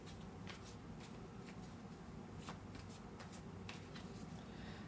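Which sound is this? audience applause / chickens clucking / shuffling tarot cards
shuffling tarot cards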